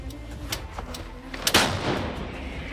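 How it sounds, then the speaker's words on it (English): Cannon artillery fire in the war in Ukraine: muffled booms with one sharp, loud blast midway that rolls off into a rumbling tail over steady background noise. "Cannon."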